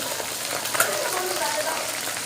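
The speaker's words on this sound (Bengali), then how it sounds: "আর এদিকে তো মাছ ভাজা হচ্ছে" Fish frying in hot oil in a home kitchen, a steady bright crackling sizzle with small pops throughout, close and continuous.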